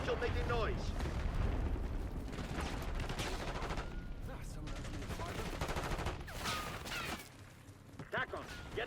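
The Archangel weapon in a Call of Duty match fires in sustained heavy bursts with booming, explosive reports, loud and continuous throughout with a brief lull near the end.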